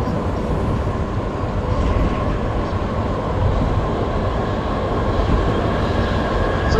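A Frankfurt U-Bahn line U7 train runs between Hausen and Enkheim, a loud, continuous rumble of wheels and motor that holds steady throughout.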